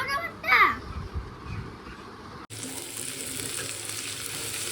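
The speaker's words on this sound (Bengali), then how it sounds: "এখন হচ্ছে এই আলু ভাজা" Potatoes fry in a pan in a home kitchen with a steady hiss. Children's voices chatter over the first half, then the sizzle carries on alone, even and fairly close.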